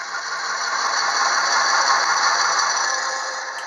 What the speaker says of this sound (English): I cut down those pieces of corian down to that over 2-inch mark